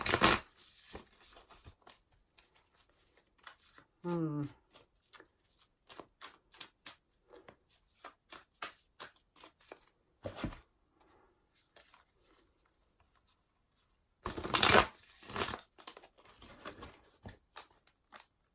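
A Wild Unknown tarot card deck being shuffled by hand, quiet papery riffles and brief rustling bursts separated by pauses, with one louder flurry near the end.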